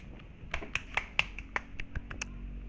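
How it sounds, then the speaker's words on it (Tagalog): Faint, irregular claps or taps, a scattered handful of sharp snaps spread over a couple of seconds, heard against a quiet background during a mobile game session. "Palakpak yarn."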